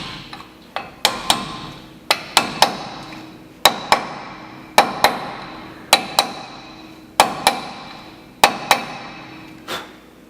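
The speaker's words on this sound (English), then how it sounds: "And then keep kind of rolling it, tapping it till it's nice and square." A brake rotor dust cap on a C10 pickup is tapped into place through an old bearing race, giving a steady series of about fifteen sharp, close metallic hammer strikes, often in quick pairs, with no talk.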